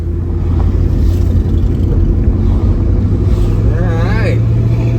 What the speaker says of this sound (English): Taking the Slova Nova out for a test run.